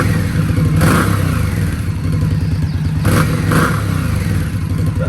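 A stock-exhaust 2021 Indian Scout motorcycle idles steadily after startup, a continuous low engine rumble with a couple of brief revs rising over it, close and loud throughout.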